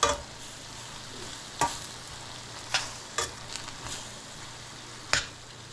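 Food sautés quietly in a pan under a low, steady sizzle, punctuated by several sharp clacks and scrapes of a utensil stirring at irregular intervals, with no talk.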